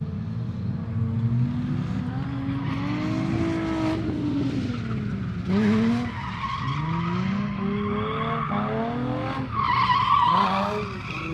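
Drift car at a drift competition skidding with wavering tire squeal over a steady engine drone, loud and continuous, with pitch sweeps as the car slides and a sharper screech near the end.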